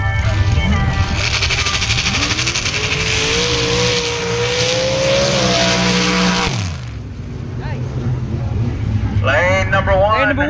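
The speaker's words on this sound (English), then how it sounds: "We've got a dozen two-wheel drive modified trucks just like these two that are in the track" Modified two-wheel drive trucks race down a mud drag track, engines roaring loud with rising revs and a sudden cutoff, then another engine revving. An announcer talks over the noise.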